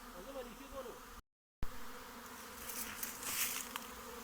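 Dense buzzing of a honeybee swarm close by, a continuous droning hum with a brief cut of silence partway through.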